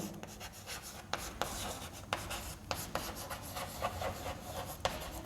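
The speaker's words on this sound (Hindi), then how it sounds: "मुस्कान थ्योरम लिख देते हैं" Chalk or marker strokes on a board during a maths lecture, with repeated short rubbing scrapes and sharp taps at an irregular rhythm, close and fairly clear, with no talking.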